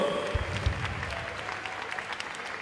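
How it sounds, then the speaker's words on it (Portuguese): Congregation at an Assembly of God central temple in Belém applauding, a continuous crowd of clapping with a couple of louder low thumps near the start, steady and moderately loud, no speech over it. "pode aplaudir mais forte ao Senhor."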